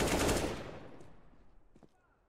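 A rapid burst of gunfire from a Counter-Strike match during an ESL Pro League game between Furia and GamerLegion, loud at first and then trailing off, followed by a couple of fainter distant shots.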